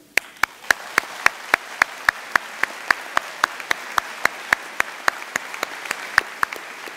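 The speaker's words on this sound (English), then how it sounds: "give them a round of applause for planting some seeds in you" Slow, evenly spaced claps ring out one after another, a single person's steady applause at a high school graduation, no talk, sharp and clear over quiet room tone.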